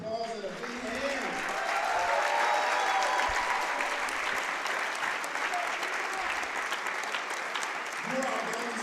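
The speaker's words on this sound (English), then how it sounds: "Let's give them a big round of applause and a big hand." Loud, sustained crowd applause at a USA versus international wrestling event in an arena, dense clapping that swells and holds steady for nearly nine seconds.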